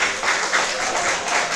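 Audience applause after a Q&A session at a talk on the war in Ukraine, a steady wash of many hands clapping at moderate loudness throughout, with no voices on top.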